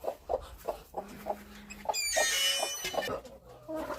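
A chicken clucks close by in a farmyard, giving a run of short rhythmic clucks and then a louder, drawn-out squawk, with a few faint background sounds.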